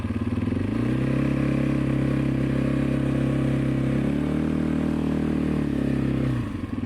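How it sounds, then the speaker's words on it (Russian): A quad bike engine runs steadily up close, a loud continuous idle that rises slightly in pitch early on, holds, then drops away near the end. "Все утихло и квадрик завелся."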